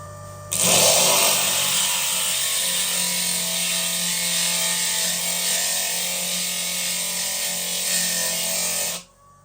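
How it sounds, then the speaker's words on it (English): A cabochon grinding on a 100 grit diamond lap of a Hi-Tech Diamond slant cabber, a steady loud abrasive whir with gritty scraping that starts abruptly, holds evenly for about eight seconds, then cuts off. "we're going to grind this High Tech Diamond cab on this 100 grit diamond lap and take this to the next level"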